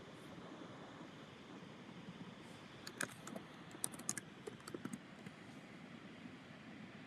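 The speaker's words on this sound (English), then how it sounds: "So let me type in garland." Quiet bursts of keyboard typing on a computer, a cluster of quick, faint clicks in the middle over a soft hissing background, then fading back to near silence.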